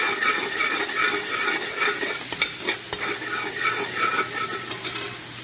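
Garlic sizzles and fries in a pot for Trinidadian chicken biryani while a utensil stirs and scrapes, a dense close hiss with a few sharp clinks and no talking.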